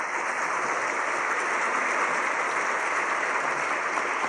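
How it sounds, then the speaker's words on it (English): A conference audience gives a sustained round of applause, dense and even clapping that fills the room steadily without pause and without voices on top. "give Yishan another round of applause"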